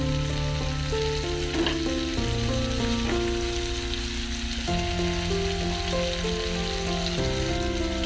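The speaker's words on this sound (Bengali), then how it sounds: "ফুলকপিগুলিকে আমি একটু ভালোভাবে নেড়ে মিশিয়ে নেব, মিশিয়ে একটু ফ্রাই করে নেব।" Cauliflower florets sizzle steadily while being stir-fried in a pan for vegetable chowmein, with a continuous frying hiss under steady background music.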